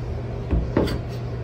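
Mini fridge door in a room at Fera Hotel by JG opening or closing: two soft thuds close together, a dull bump then a slightly sharper clack, over a steady low room hum.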